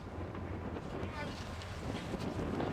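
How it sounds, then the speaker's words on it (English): Strong wind on Mont Blanc roars steadily as a constant close buffeting rush against the microphone, with a faint voice partly buried beneath it. "Very strong wind. So much wind."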